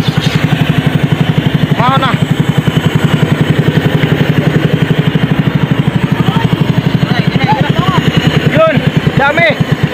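A boat's motor runs steadily and loud through the whole stretch during sea urchin diving at sea, a throbbing mid-pitched engine drone with clattering, while people talk briefly over it.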